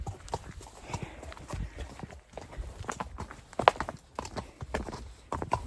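A horse walking on a ride, its hooves clip-clopping in a steady, fairly close rhythm of distinct strikes, with faint background noise and no speech.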